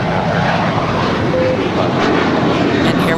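A JetBlue Airbus A321 airliner, eight years old, departs LAX for JFK, its engines a steady, broad roar that holds loud and even throughout with no voices over it.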